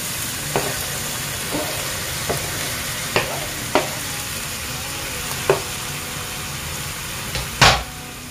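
Ground pork sautéing in a pan with tomatoes added: a continuous close sizzle, broken by a series of sharp scraping clicks from stirring and one louder scrape near the end.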